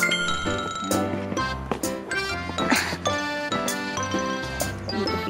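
A bell at Mirador Hill Heritage and Eco Park in Baguio rings out with repeated bright metallic strikes and long humming tones, close by and fairly loud over busy outdoor noise.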